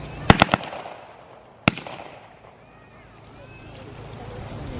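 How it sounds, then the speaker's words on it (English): A wartime Sten submachine gun, switched to automatic at a wartime Britain display, fires a quick burst of three sharp bangs and then a single shot before the weapon jams, outdoors with faint ambient noise. "S-T-E-N gives us Sten gun. Single shot, change the fire selector into automatic."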